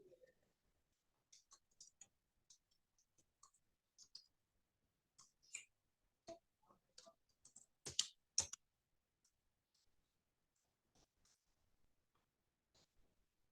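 Sparse clicks and taps from a computer keyboard and mouse while working in MS Word 2013, faint and irregular, with brief bursts of closer, sharper keystrokes midway and quiet gaps between.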